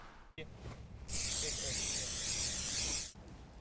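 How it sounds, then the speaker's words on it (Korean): Anti-slip spray chain aerosol sprayed onto car tires in winter, a loud steady broadband hiss lasting about two seconds, starting abruptly and cutting off sharply, over low background noise. "이렇게 스프레이를 뿌려 미끄러움을 방지하는 스프레이 체인도 있는데요"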